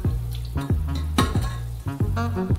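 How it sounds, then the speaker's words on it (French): Sugar syrup boils on a stove with a steady bubbling sizzle, and several sharp clinks and scrapes of a utensil against the pot punctuate it at irregular intervals. "Portez à ébullition et faites bouillir le sirop pendant 9 minutes."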